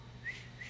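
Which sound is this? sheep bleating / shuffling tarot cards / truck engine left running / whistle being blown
whistle being blown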